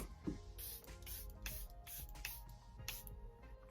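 Several quick hissing bursts of Charlotte Tilbury Airbrush Flawless makeup setting spray, pumped in an even rhythm at close range, faint against a quiet room.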